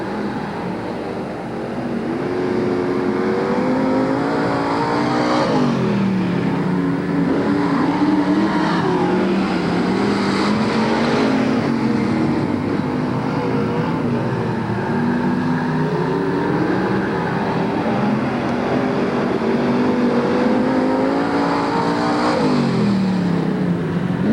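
Sprint cars race at Marysville, 360 sprint engines howling loud and continuous as they rise and fall in pitch lap after lap, several cars passing close with repeated surges of revving.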